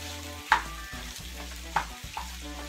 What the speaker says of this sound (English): I just want to cook this until